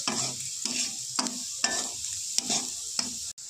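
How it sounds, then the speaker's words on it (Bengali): Moong dal frying with browned onions is stirred in a pan, with a regular series of about six scraping spatula strokes, each starting with a sharp tap, over a low, steady sizzle. "পেঁয়াজ ভাজতে ভাজতে লাল হয়ে গেছে, এর মধ্যে মুগ ডাল দেওয়া যাক। ডাল দিয়ে দিয়েছি। তো নাড়া কষাচ্ছি এখন।"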